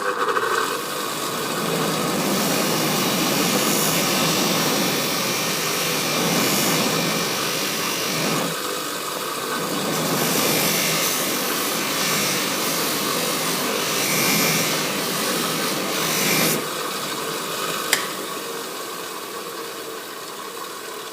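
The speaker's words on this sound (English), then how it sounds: "I'm going to use the polishing machine to get a high shine" Polishing machine buffing the edge of an acrylic sheet, a steady loud motor whir with a rough broadband hiss that swells and dips as the piece is pressed against the wheel, with no talk.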